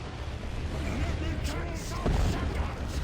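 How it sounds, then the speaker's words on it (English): Bombardment cannons fire in the Dawn of War 2 Retribution game, a dense run of heavy booming artillery and rumbling blasts that stays loud throughout, with battle voices mixed underneath. "Firing the bombardment cannons!"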